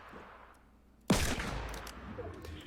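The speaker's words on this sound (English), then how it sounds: "Check out this beautiful headshot." A single revolver headshot in a video game, one sharp sudden bang after quiet, followed by a fading tail of game noise.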